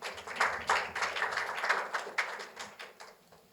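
Moderate clapping from a modest conference audience welcoming the third presenter at a lab day talk event; a steady patter of hands that holds evenly, then tapers off toward the end.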